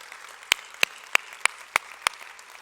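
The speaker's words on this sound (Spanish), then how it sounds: "Denle un fuerte aplauso de nuevo al Señor." Six sharp, evenly spaced claps ring out in a church service, each one distinct and close, with quiet between them rather than a dense wash of congregation applause.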